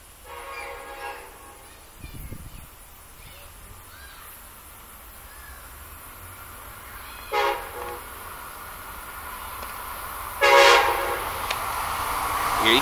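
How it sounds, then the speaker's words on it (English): Amtrak train with track geometry cars approaching on the Northeast Corridor at Norwood, a faint distant rumble with horn blasts growing louder, plus crows cawing nearby. "I've caught an Amtrak train with track geometry cars"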